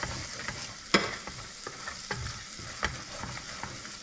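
Mint leaves and crushed kasuri methi fry in oil for a chana curry, a close, steady sizzle broken by repeated scraping stirs and one sharper clink.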